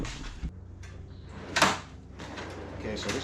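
Bike drawer in a Ford Transit mountain-bike van build sliding on its runners, a muffled rolling rumble with a thump and a sharper knock midway, heard up close in a quiet space.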